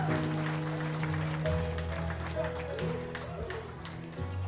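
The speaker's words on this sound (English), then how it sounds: "Let's give them a big round of applause." Wedding guests clap after a father-daughter dance, steady applause under background music and a few voices.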